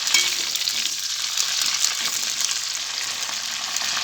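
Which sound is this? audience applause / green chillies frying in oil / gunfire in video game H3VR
green chillies frying in oil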